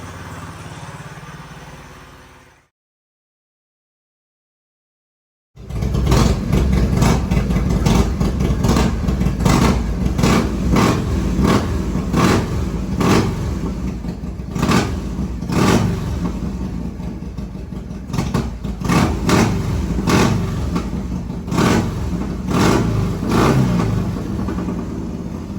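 A 1969 Yamaha 125 motorcycle engine runs loud and close, idling briefly before a short silence, then revving repeatedly in sharp bursts over a steady rumbling idle.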